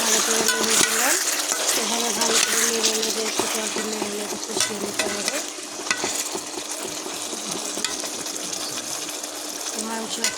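Quail meat fries and gets stirred in a hot pan of oil and spices, a loud continuous sizzle broken by frequent scraping and clinking strokes of the spoon throughout.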